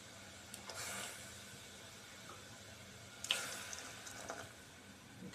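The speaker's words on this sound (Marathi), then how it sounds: "त्याच्यामध्ये आता आपण गरम पाणी टाकणार आहोत उकळतं" Boiling hot water poured into mutton stock for a rassa gravy: a faint, soft splashing pour with a few brief louder gushes and drips, heard fairly close in a quiet kitchen.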